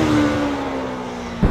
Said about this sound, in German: Ich bin hier auf einer CMX 500 Rebel von Honda.